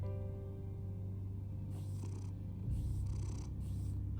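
Cat purring in the Batman Telltale Series video game, a steady low rumbling purr running continuously throughout, close and fairly quiet, with occasional soft background sounds over it.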